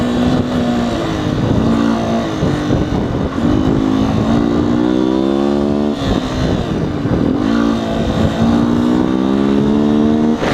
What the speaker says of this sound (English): You gotta get those revs up.